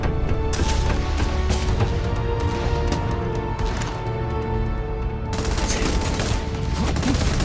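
Grenade explosions and gunfire in the video game Starfield come as a rapid volley of sharp cracks and booms over a thick rumble, loud and close, with a brief lull before another burst.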